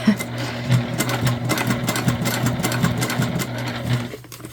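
A sewing machine runs steadily while top stitching a tote bag, its needle hammering in a fast even rhythm close up, with a brief pause near the end.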